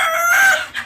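A Cochin rooster, a very round heavy breed, crows in a single short, loud, close burst that cuts off abruptly near the end.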